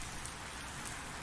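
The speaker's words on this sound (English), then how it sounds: "It is rainy." Rain in American Truck Simulator, a steady wash of falling rain hitting surfaces, even and unbroken, moderately loud with no other sounds over it.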